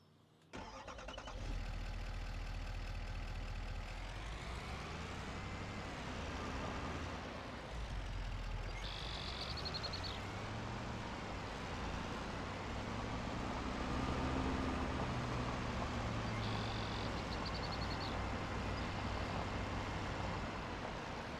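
A farm truck's engine starts up and then runs steadily and loudly as the truck drives, holding a close, even rumble throughout.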